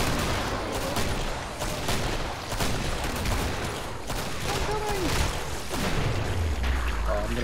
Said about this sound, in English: I'm shooting him with my hand cannons